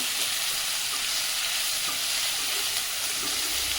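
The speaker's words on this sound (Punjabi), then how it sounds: "ਆਪਾਂ ਚੰਗੀ ਤਰ੍ਹਾਂ ਇਹ ਮਾਰ ਲੈਣੇ ਆ ਕੜਛੀ ਅਸੀਂ ਇਹਨਾਂ ਇਸ ਤਰ੍ਹਾਂ ਪਿਆਜ਼ ਬਰਾਊਨ ਕਰਾਂਗੇ" Onions browning in a pan for an aloo matar curry, frying with a steady, close hiss while a ladle stirs them throughout, with no talking.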